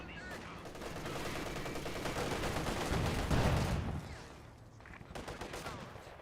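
DShK heavy machine gun fire in Company of Heroes 2, sustained rapid bursts that swell into a dense loud barrage and then taper off, with battlefield noise behind and a voice faintly under it.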